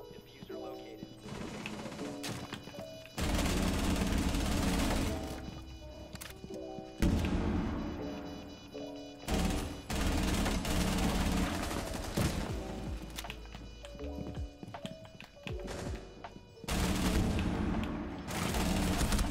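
Bursts of automatic gunfire from an unmodified gun with no attachments in Rainbow Six Siege, loud and sustained across several long volleys with short breaks, alongside a player talking over the shooting.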